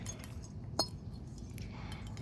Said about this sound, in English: This is a Snoopy bank.